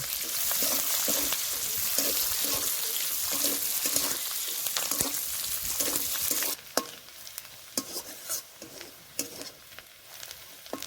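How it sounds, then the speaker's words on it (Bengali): Garlic fries in oil alongside onion and dried chillies with a bright, loud sizzle and repeated scraping stirs; partway through the frying drops sharply quieter, leaving sparse crackles and spatula clicks. "রসুনটা আমি একটু বেশি দিয়েছি এবার ভালো করে ভেজে নেব"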